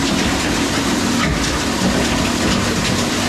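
Plastic purge loading into a Zerma ZCS600 combination unit gives a steady, loud rushing and churning noise with a low hum underneath, running without a break.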